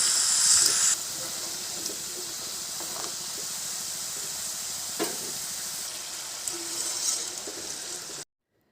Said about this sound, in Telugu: ఈ విధంగా గోల్డెన్ బ్రౌన్ కలర్ వచ్చేంత వరకు వీటిని బాగా వేయించుకోవాలి.